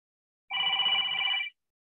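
A telephone bell rings in a single steady burst of about one second, clear and fairly close, with silence before and after and no talk.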